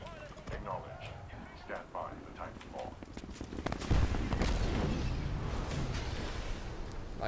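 A booming explosion in the shooter game Titanfall lands midway through, followed by a rumbling roar and scattered gunfire, with a player talking excitedly over the game sounds throughout.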